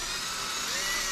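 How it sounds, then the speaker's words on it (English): A drill fitted with a stiff-bristled brush whirs steadily as it scrubs a greasy chair treated with degreaser, a continuous high, hissing spin heard close and alone. "really good agitation with a somewhat stiff bristled brush on my drill"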